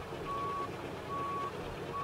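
Reversing beeps from a truck in Euro Truck Simulator 2: three steady, evenly spaced electronic tones over a continuous engine rumble, with no talk.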